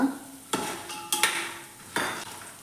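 Dry chillies, raisins, cashews and curry leaves frying in oil for avalakki chivda, with a soft sizzle broken by several sharp scraping stirs of a spoon against the pan.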